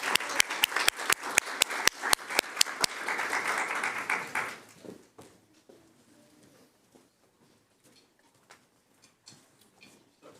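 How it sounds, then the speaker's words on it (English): A crowd claps in applause for a few seconds at a school board meeting, the clapping fading out into quiet room noise with scattered small sounds. "let's give them applause"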